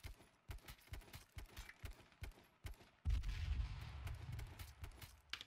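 Bursts of automatic gunfire from the battle royale video game H1Z1 crack in rapid, irregular volleys, then a heavier sustained barrage with a low rumble takes over midway, fairly loud and alone.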